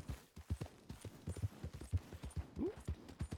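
Horse hooves galloping in Red Dead Redemption 2, a quick irregular run of heavy low thuds in close succession, loud and near, with a brief whinny-like squeal midway.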